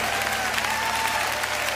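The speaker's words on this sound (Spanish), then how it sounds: "¿Cuántos aplauden a la roca de su salvación en esta tarde?" A congregation at an afternoon Spanish-language worship service applauds, producing a dense, continuous wall of clapping with crowd noise and a faint tonal hum beneath, sustained evenly throughout.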